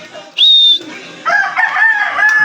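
A rooster crows near a pigeon release in Science City of Muñoz, Nueva Ecija, with a loud, close call, a short high whistle-like note first and then a longer drawn-out crow.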